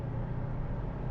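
Toyota 4Runner engine droning steadily at half throttle from inside the cabin, a low constant hum with no downshift or rise in pitch, transmission holding its gear.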